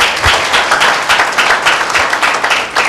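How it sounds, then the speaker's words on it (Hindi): A church congregation at a Sunday meeting bursts into loud, close applause, dense clapping that pulses steadily throughout without any talking. "जोरदार ताली प्रभु के लिए"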